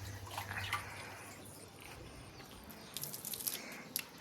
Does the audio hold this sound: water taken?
yes